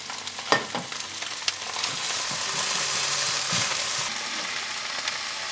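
Spring greens hitting hot oil in a pan give a steady, close sizzle, with a few bright crackles and stirring knocks early on, then a continuous hiss that holds to the end with no talking.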